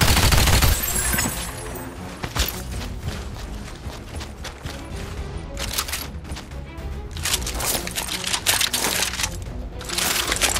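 Pistol and SMG gunfire rattles through The Scrap, with dense bursts of rapid shots and scattered single cracks, loud and continuous, with no talking.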